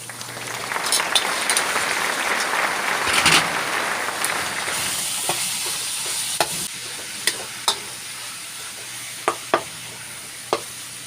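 A kilo of ground pork sizzles and fries in a pan while being stirred. A hiss rises early on and then fades into quieter frying, broken by sharp scraping clicks of the spoon against the pan.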